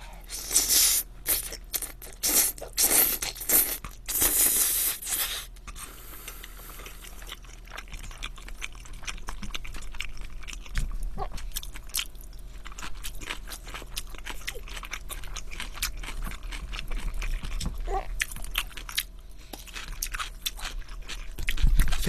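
Crunchy fried shrimp tempura eaten with pasta gives sharp, close bites and crackling chews early on, then softer, quieter mouth sounds and scraping fade out, with no speech over it.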